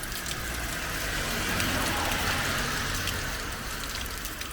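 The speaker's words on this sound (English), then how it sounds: "One thing I always love is to hear the raindrop crashing down." Heavy rain pours down in a dense, steady wash of hiss and patter, with water splashing close by and a low background rumble throughout.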